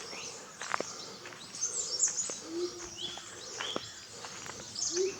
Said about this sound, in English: that is the chirping of the birds, the music.